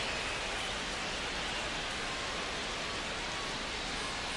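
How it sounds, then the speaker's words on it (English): Steady, dense rain falls in a baseball simulation of Blue Jays vs Mets in MLB The Show 25, an even, constant hiss with no letup and no voices. "This rain is not letting up."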